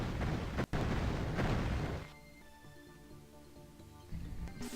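Heavy explosions in the shooter game Heretic, a loud booming rumble over the first two seconds, then quieter game tones before another burst near the end.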